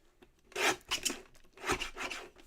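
Scissors or a trimmer cutting a recycled greeting card, three or four short close rasping cuts through card stock with quiet gaps between them and no talk.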